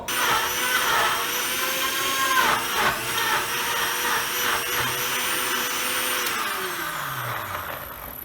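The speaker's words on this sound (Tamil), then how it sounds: "இப்போ இதை நாம் என்ன பண்ண போகிறோம்னா மிக்சியில் அரைச்சி எடுக்க போகிறோம்" An electric mixer grinder whirs steadily as it grinds finely chopped pineapple, a loud continuous motor drone that rises and then winds down near the end.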